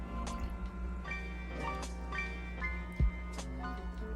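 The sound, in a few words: scooping water out of a 10 gallon aquarium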